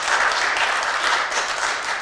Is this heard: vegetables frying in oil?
no